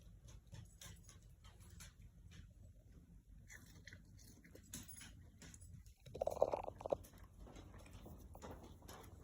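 Crunchy bites of crispy, homemade-style fries from Five Guys, with a short burst of close chewing and crackling about two-thirds of the way through, over low background rumble and restaurant noise.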